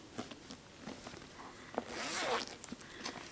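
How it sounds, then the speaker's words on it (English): The zipper of a small zippered bookmark pouch is pulled in one quick, close rasping stroke, surrounded by light handling rustles. "This other one is a zippered pouch"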